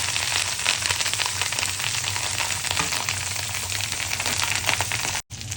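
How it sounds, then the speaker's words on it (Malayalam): Fish fries in coconut oil in a pan, giving a steady, dense crackling sizzle that stays close and loud throughout with no voices over it. "അപ്പോൾ അത് വെച്ചിട്ട് മീനൊന്ന് ഫ്രൈ ചെയ്തെടുക്കുകയാണ്."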